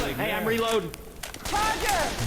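Gunfire in the zombie shooter Left 4 Dead 2, heard as a short burst of shots in the middle amid excited shouting by players.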